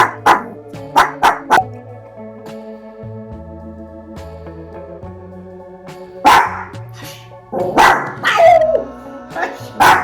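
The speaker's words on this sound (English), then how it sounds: "Big voice for a little dog." A small dog barks in quick sharp bursts, a cluster of loud close yaps at the start and more near the end, with people talking in the quieter stretch between.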